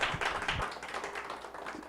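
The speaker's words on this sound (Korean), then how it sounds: "윤덕영 목사님, 환영의 박수로 맞이해 주시기 바랍니다" A church audience claps in welcome for a pastor arriving to give an Advent lecture, a steady, dense patter of many hands that stays fairly even and fades slightly over two seconds.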